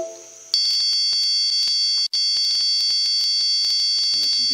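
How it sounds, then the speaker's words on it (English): A short tone gives way to a continuous high-pitched electronic beep from an Arduino board, steady and loud, briefly cut once midway, with faint clicks underneath. "it's beeping from the old code that's in there"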